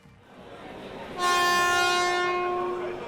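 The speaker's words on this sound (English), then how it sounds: "The new suspension is an outstanding success and keeps the Shinkansen firmly on the track." A Shinkansen high-speed train runs on the track with a low rumble, then a loud, sustained multi-tone horn sounds close by and holds steady before easing slightly.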